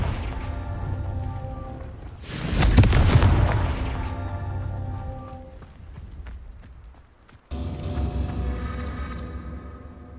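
A Confringo spell explosion in the video game Hogwarts Legacy gives a loud booming blast about two seconds in over a continuous game soundscape, followed by quieter combat effects and a renewed swell of sound near the end.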